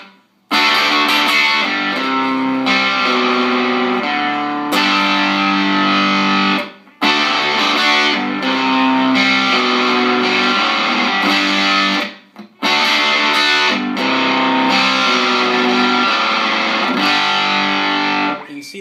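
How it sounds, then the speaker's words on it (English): An electric guitar plays sustained chords through a Throbak Stonebender pedal with gritty, raw distortion, in several phrases separated by brief silences. "it's almost more like a kind of a slightly primitive sounding distortion pedal"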